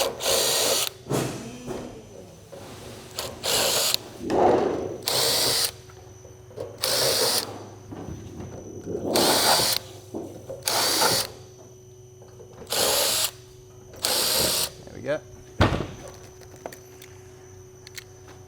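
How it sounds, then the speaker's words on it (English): A power drill whines in a series of short bursts, drilling out rivet holes in a metal quad gutter for a downpipe, roughly eight separate runs with pauses between, close by and fairly loud. "I'll just drill out those other holes."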